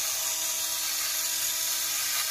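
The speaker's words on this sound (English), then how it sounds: "This is a automatic gravity-fed pepper grinder." Automatic gravity-fed electric pepper grinder with a ceramic burr, running steadily with a thin, high-pitched motor whine and grinding hiss, close and continuous, no talk.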